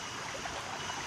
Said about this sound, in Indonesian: Kita sedang berada di Sungai Manyuan ya. Ini sungai jernih.